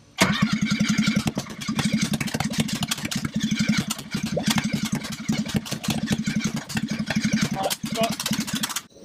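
A Ford ST170 engine in a Mk1 Escort cranks with a fast, steady rhythmic chug from the starter, loud and close, sputtering briefly without fully catching.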